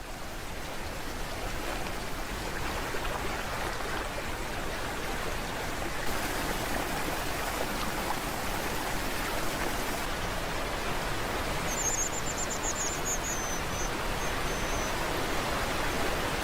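Continuous rushing, bubbling water of a shallow salmon river, a steady broadband wash with no voices, like a stream tumbling over stones close by.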